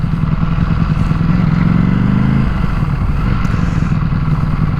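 A Ducati Panigale V4S being ridden, its engine a loud, close drone that rises in pitch as it revs, then settles back into a steady rumble.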